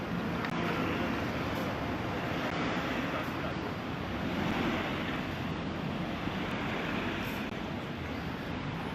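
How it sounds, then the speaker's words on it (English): Large fountains near Otemachi Station by the Tokyo Imperial Palace gardens, a steady, loud broadband rush of splashing water with no pauses, close by and continuous throughout. "Super big fountains."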